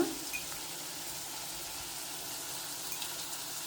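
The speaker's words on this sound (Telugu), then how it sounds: "బ్రౌన్ కలర్ వచ్చే వరకు ఫ్రై చేసుకోవాలి ఆనియన్స్ ఫ్రై అయిపోయాయి" Onions frying in a pan, a faint, steady hiss of sizzling oil that continues evenly throughout, with no voices.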